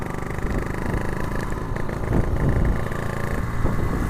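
A motorcycle fitted with an Abbox C20 aftermarket exhaust rumbles loud and close while riding. The engine drones steadily and swells slightly midway, with no voices over it.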